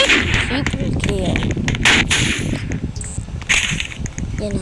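Gunfire crackles in a shooting video game, with sharp shots and bursts scattered over a busy mix of game sounds while a player talks throughout.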